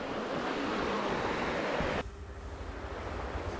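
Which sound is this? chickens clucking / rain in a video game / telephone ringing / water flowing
water flowing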